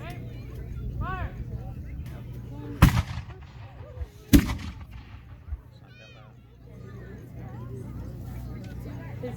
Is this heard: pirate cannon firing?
yes